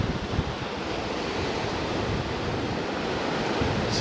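Ocean waves breaking along a reef coastline at Fowlers Bay in South Australia, a steady loud wash of surf mixed with wind buffeting the microphone, continuous and with no talk.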